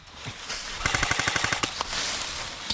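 Airsoft gun fired in a rapid burst of about a dozen sharp, evenly spaced snaps during an outdoor game on a field, close and loud over a hissy, breezy background, with no talk.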